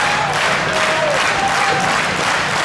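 Spectators at a Below Zero Wrestling show in West Fargo, North Dakota, keep up a steady wash of applause and cheering through the whole stretch, with a few whistles standing out over the crowd noise.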